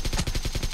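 Automatic gunfire in a video game goes off as a rapid, loud burst of shots at a steady fast rhythm, with no voices over it.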